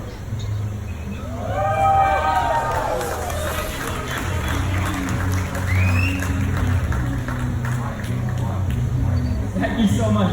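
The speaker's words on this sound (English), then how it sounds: "you hear the applause from the audience" Audience applause and cheering at a magic show, a sustained crowd noise of clapping with voices calling out over it throughout.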